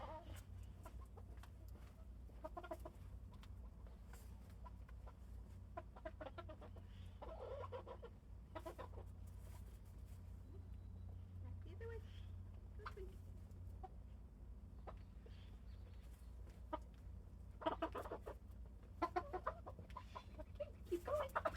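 Backyard hens give scattered, fairly quiet clucks and squawks while being herded and moved to fresh greens, intermittent short bursts over a low steady background hum, with a few sharper clicks near the end.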